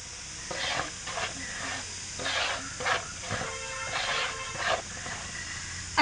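Potting soil worked together with cow dung manure and a handful of sand by hand in a container, giving a series of dry, gritty scraping and rustling strokes in uneven bursts, close by.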